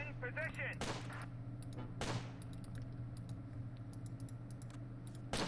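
Rapid bursts of troops' gunfire in the World War II strategy game Close Combat: Gateway to Caen crackle in sharp, scattered volleys over a steady low hum, with a few louder cracks standing out.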